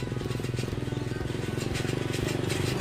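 A motorbike engine carrying freshly harvested jackfruit on a Thai farm putters with a steady, even pulse, a continuous mid-loud drone heard fairly close.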